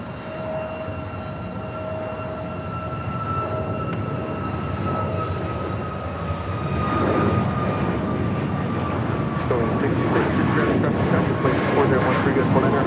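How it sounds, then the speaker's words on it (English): A Qatar Emiri Airbus A340 roars steadily during takeoff on the south side at Los Angeles airport, its engine drone loud and sustained with high whining tones, swelling louder in the second half as thrust builds; radio chatter runs underneath. "the big Q, Qatar Emiri A340, going to be taking off here on the south side"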